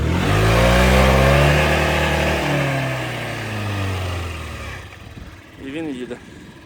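A Yamaha Gear fuel-injected scooter engine revs loudly under throttle with its side stand up, the pitch climbing then settling over several seconds before cutting off, followed by brief quieter mechanical sounds.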